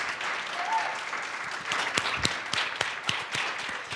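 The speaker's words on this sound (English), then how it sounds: "Yeah, round of applause." An audience applauds a performer leaving the stage on a televised show, a steady, fairly soft patter of many hands clapping throughout, with a few sharper individual claps and a brief voice.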